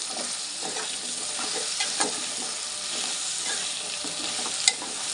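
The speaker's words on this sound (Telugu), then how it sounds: "తోటకూర కాళ్ళండి వేసేసుకుందాం ఒకసారి కలుపుకుందాం" Amaranth stems stirred into a prawn curry frying in a pan: a steady close sizzle with soft scraping strokes of the spoon and an occasional light tap against the pan, no voices.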